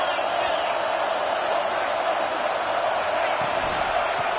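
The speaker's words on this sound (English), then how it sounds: "this crowd imploring its defense to stand firm" Football stadium crowd roaring steadily as fans urge their defense to hold in the red zone, a dense, continuous wall of noise with no pauses.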